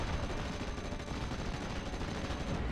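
Dense, continuous roar of artillery barrage mixed with gunfire in the World War II strategy game Steel Division 44, a steady wall of distant explosions and shots with no pauses.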